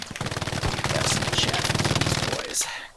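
A mounted machine gun firing in a large 18-versus-18 multiplayer shooter match, a sustained rapid burst of close, loud automatic fire lasting a couple of seconds amid general battle noise.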